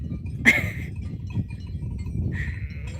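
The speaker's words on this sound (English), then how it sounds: "I just can't take this seriously, just with the sheep. Can I show you? Can you hear them?" Sheep in the Austrian Alps let out two bleats, a sharp close one near the start and a longer, quieter one near the end, over a soft outdoor rumble with no talking.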